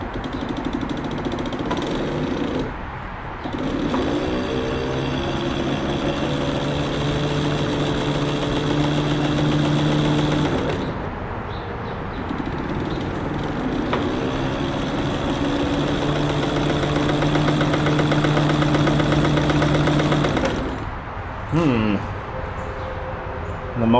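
A White rotary sewing machine's motor runs steadily, driven through a rubber tire and controlled by a knee lever, humming with a low whirring drone and brief pauses, heard up close over near-continuous talking.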